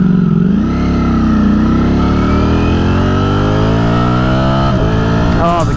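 Ducati Streetfighter V4S with a Brentuned ECU revving hard while ridden, its engine pitch climbing steadily through the gears with a sharp shift near the end, loud and close.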